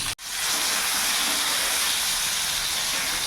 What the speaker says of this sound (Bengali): পটলটা একটু ভাজা ভাজা করে নিই।